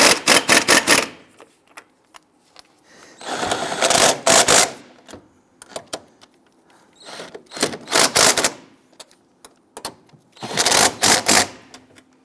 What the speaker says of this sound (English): I'm going to go ahead and snug down our axle nut.